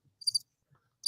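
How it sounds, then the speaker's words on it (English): Crickets chirping in short high-pitched bursts, a couple of quick trills separated by silence, with faint low thumps between, dropped in as a brief sound effect. "Crickets."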